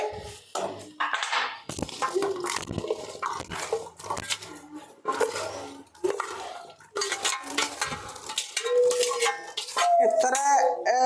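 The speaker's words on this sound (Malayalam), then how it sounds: "ഇപ്പൊ നമുക്ക് അതിനി കുക്കറിനകത്തേക്ക് മാറ്റാവേ" Vegetables for sambar clatter and scrape against a metal pressure cooker in repeated bursts, with metallic knocks and a brief squeal near the end.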